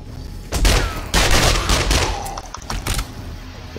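An automated turret in 7 Days to Die firing rapid bursts of gunfire, loud and close, with a short pause before a final scattered volley.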